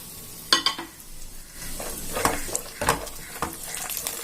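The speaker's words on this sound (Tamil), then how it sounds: "பருப்பையும் திராட்சையும் வறுத்து எடுத்துக்கலாம்." Cashews and raisins frying in ghee in a pan, a close, lively sizzle punctuated by repeated metallic spoon stirs and clinks against the pan.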